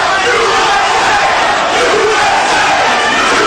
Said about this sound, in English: Crowd chants USA to try to bolster the hopes of Vince Phillips